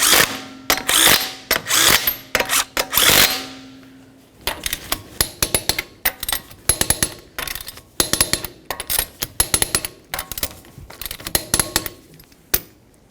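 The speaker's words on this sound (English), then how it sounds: "continue on with your 19mm lug nuts. We'll start them in, bottom them out" A power tool tightens 19mm lug nuts on a 2003-2007 Honda Accord wheel, loud rapid impact bursts in repeated short runs up close, broken by brief pauses and clanks.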